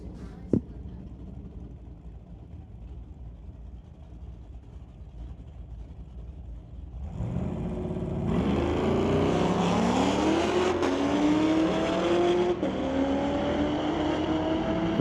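A 2016 Corvette drag car launches at a street-legal night race at Mission Raceway Park, its engine roaring up through rising gears as it pulls away down the track, loud and sustained after a quieter idle.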